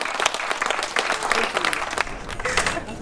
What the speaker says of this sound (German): Auch einen herzlichen Applaus für die beiden Jungs.